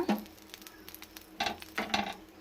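A bun toasts in melted butter in a pan for a sandwich, giving a soft, faint sizzle with small crackling pops, close by and quiet.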